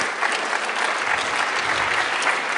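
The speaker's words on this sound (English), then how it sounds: "Let's give them a round of applause." Steady, dense applause from an audience at a 1 Million Cups Kansas City anniversary gathering, loud and continuous throughout with no pauses.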